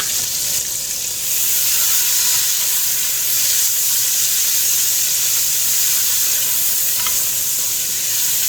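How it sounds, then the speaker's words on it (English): Coconut oil sizzling in a hot frying pan, a continuous loud hiss and crackle with occasional sharper pops, heard close and alone without speech. "Oops, it's starting to burn. Need to get some coconut oil in there real quick."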